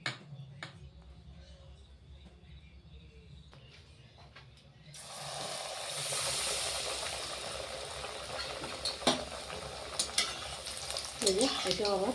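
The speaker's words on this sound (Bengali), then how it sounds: "এই যে এটা আবার সেম একটু লালচে করে ভেজে নিচ্ছি" A Mughlai paratha stuffed with vegetables frying in a pan: a quiet start gives way to a loud, continuous sizzle with stirring clicks and occasional sharp pops, close up.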